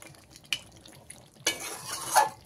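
A spoon scrapes and stirs chicken masala in a pan, then a loud sizzle of frying erupts and continues, close and bright.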